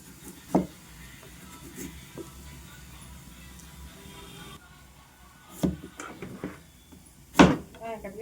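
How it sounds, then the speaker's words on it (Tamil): A knife cuts elephant foot yam into long pieces, giving a few separate sharp chopping knocks spaced seconds apart, with a person talking in between. "அதுக்கு கருணைக்கிழங்கை நம்ம இப்படி கட் பண்ணிக்கணும்."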